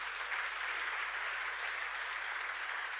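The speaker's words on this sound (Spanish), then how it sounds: "Dale un aplauso al Señor" Church congregation applauding together, a steady dense wash of clapping filling the whole stretch with no break, moderately loud and even throughout.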